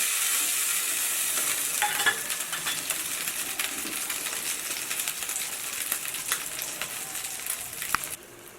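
Omelette batter sizzles and fries in a hot pan, a steady close crackle with scattered spits and pops throughout, ending with a quieter tail.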